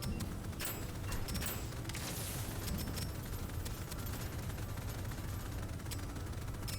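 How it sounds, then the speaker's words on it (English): Continuous dense gunfire in the first-person roguelite shooter Deadzone: Rogue, a loud steady barrage of rapid shots filling the whole stretch with no pauses. "Let's just start shooting."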